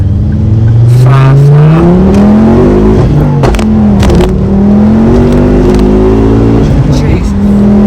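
A 330 bhp MK2 Ford Focus ST with a hybrid turbo accelerates hard and loud, its engine note rising steadily through the gears with brief breaks at the shifts, heard from close by.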